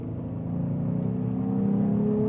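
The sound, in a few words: V6 Ram 1500 engine revving with K&N cold air intake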